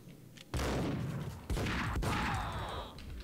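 Gunfire rings out in the video game Max Payne: several sharp, loud bursts of shots arrive in quick succession, each with a short echoing tail.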